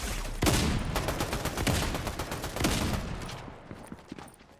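Rapid automatic gunfire in the video game Fortnite, a dense, loud burst of shots that rattles on for several seconds before thinning out into a few scattered pops.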